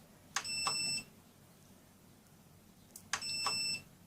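A multimeter on continuity mode beeps twice, with about three seconds between the beeps, while its probes test a transistor circuit on a power switch inside an Onkyo TX-SR605 receiver stuck in standby. Each tone is a short, bright chirp with a faint tick just before it.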